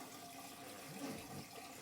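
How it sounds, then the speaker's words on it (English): Water rushes steadily into a Seaflo ceramic RV toilet bowl after a foot pedal is pressed, a faint, continuous hiss of filling with no talk. "we'll press down on our foot pedal here. You can see we've got water coming in. You can even hear it here."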